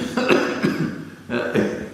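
A few short coughs, one close after another, in a quiet room with no other sounds.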